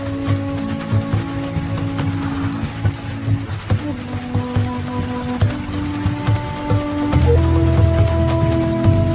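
Monsoon rain falls steadily in a wild tiger habitat in India, a dense patter of drops on surfaces beneath a sustained low, tonal hum.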